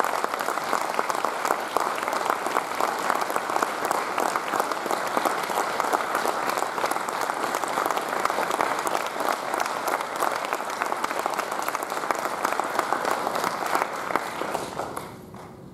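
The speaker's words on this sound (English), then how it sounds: "Dr. Teerakiat deserves one very big round of applause from all of you" A large audience at a multi-chamber business lunch gives a long, loud round of applause for the Minister of Education, a dense sustained wash of clapping that tapers off right at the end.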